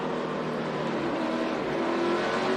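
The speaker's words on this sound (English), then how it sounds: "You see how far up off the corner onto the straightaway he gets before he can go full throttle." A NASCAR stock car at Martinsville accelerating off the corner toward full throttle, a loud sustained engine roar with rising pitch heard steadily throughout.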